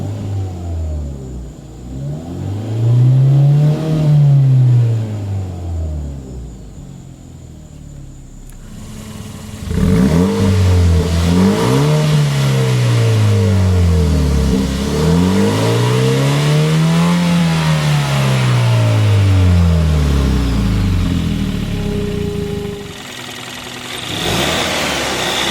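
A 2013 Hyundai Veloster Turbo engine is revved repeatedly, each rise and fall swelling clearly, with a steady idle between the loud close pulls.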